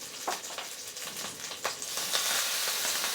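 Curry leaves and a little onion hit hot oil that already holds mustard seeds and cumin, giving a steady crackling sizzle with a few sharp pops. The frying grows louder and fuller midway and plays out close with no talking.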